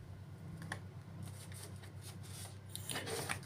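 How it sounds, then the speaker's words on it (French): Tarot cards being gathered and shuffled on a table, a soft, continuous riffle and shuffle of cards with light clicks and slides, close but quiet against a low background hum. "Je range rapidement les cartes pour vous montrer ce tirage"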